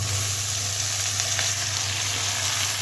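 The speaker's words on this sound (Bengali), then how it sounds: "দেখো ভালো করে ভাজা ভাজা হয়ে গেছে আলু আর পেঁয়াজ।" Potatoes and onions fry in a hot pan, giving a loud, steady, close sizzle with constant crackle and no pauses and no one speaking.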